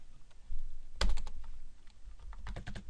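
Keys clatter on a computer keyboard in a few short bursts, a sharp cluster of taps followed by a quicker run of keystrokes, close and alone with no talking.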